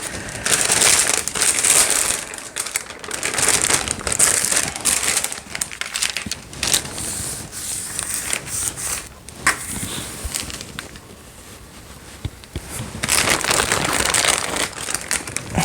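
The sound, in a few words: greaseproof paper being crinkled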